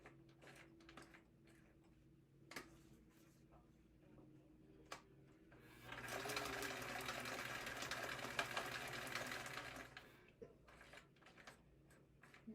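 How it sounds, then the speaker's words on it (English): A sewing machine back stitches at the start and end of a seam on a minimalist wallet, a steady mechanical whir running for about four seconds, loud and close, between sparse clicks and handling taps. "now we're just back stitching at our beginning and end"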